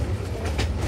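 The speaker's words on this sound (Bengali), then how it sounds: "কিশোরগঞ্জ অভিমুখী 11 সিন্ধুর প্রভাতী এক্সপ্রেস ট্রেনটি এখন কুলিয়ারচর রেলওয়ে স্টেশন প্রবেশ করছে।" The 737 Up Egarosindur Provati Express, bound for Kishoreganj, rolls into Kuliarchar railway station with a brief, steady low rumble and faint rhythmic wheel clatter, heard from aboard.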